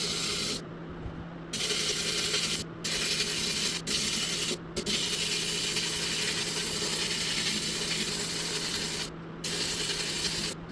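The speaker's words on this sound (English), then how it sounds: "So we blasted that blade, size 10 bead blast." Size 10 glass bead media blasting a knife blade inside a blasting cabinet, a loud continuous hissing roar that cuts off in a few brief gaps as the trigger is released, with a steady compressor hum underneath.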